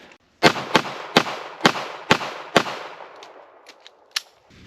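A Ruger LCP pistol firing hollow point rounds outdoors, six sharp loud shots in a quick, fairly even string, each with a short echo, followed by fainter distant reports.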